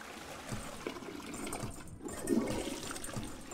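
A toilet flushing in the video game Twelve Minutes, a soft, steady rush of water that swells slightly midway, heard alone and fairly faint.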